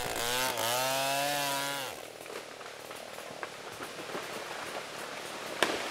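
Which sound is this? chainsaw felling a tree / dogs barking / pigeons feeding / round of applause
chainsaw felling a tree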